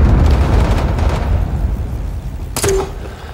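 Artillery explosions in the Vietnam war game Rising Storm 2, a heavy rumbling boom fading out, followed by a sharp crack near the end.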